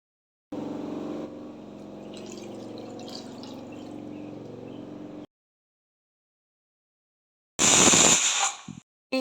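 Water streams into a pressure cooker holding beef legs as a steady pour lasting several seconds. After a pause comes a brief, louder splashing burst.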